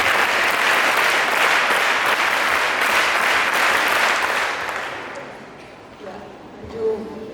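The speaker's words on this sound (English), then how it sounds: "Let's give them the Michaelite clap" Students at a school assembly give a rhythmic group clap, a loud, dense burst of applause from a large crowd that holds steady for about five seconds, then fades to quiet room noise with faint voices.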